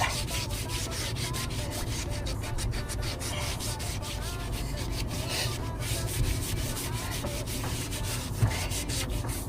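Steady rasping of sandpaper rubbing over a small wooden boat, continuous back-and-forth scraping up close with no talking.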